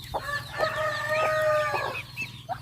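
A mother hen calls with a drawn-out, tonal crowing-like cry, preceded and followed by short clucks, over a steady low hum.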